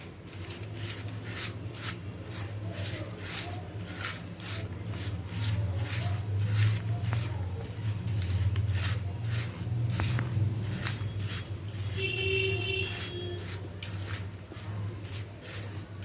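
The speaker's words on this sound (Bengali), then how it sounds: "দিয়ে আমি দুধটাকে বা ঘিটাকে ভালো করে মিক্সড করে নেব আগে" Desi ghee being worked into powdered milk by hand or spoon, making soft, repeated rubbing and scraping strokes in a steady rhythm, close and fairly quiet, with no talking.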